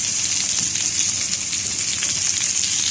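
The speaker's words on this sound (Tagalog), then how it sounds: "Gisa natin sa sarili niyang mantika. Lagay na rin natin ang sibuyas." Pork and onion sautéing in their own rendered fat for adobo: a steady, dense crackling sizzle, close and fairly loud, without a break.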